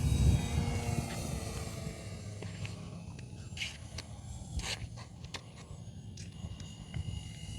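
E-Flite Extra 300 RC airplane flying outdoors on its maiden flight, a faint, steady propeller drone from a distance with slight rises and falls in pitch.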